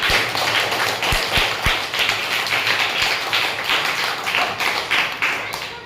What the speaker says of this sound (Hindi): इस बिटिया के लिए भी जोरदार ताली